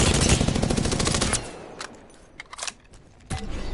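Rapid automatic gunfire from an enemy in Apex Legends, a loud close burst of shots for over a second, then a few scattered single cracks amid quieter game sounds.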